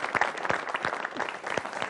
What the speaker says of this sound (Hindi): तो आपके लिए हम सब ताली बजाते हैं